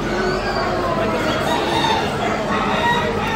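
Chickens clucking and crowing at the Perth Royal Show in Western Australia, several birds at once in a busy, noisy coop, continuous and fairly loud with no talking.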